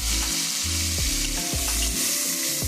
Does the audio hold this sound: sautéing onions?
yes